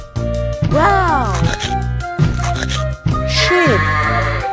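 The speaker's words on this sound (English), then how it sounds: "Sheep," A sheep bleats in several wavering, quavering calls over a continuous musical backdrop from a children's animated animal cartoon, loud and close.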